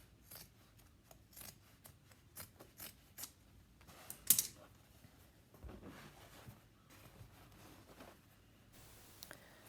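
Scissors cut upholstery fabric for a fitted slip cover, a series of quiet, close snips in an irregular rhythm, with light rustling of the cloth between cuts.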